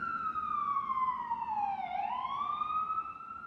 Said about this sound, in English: These goddamn sirens.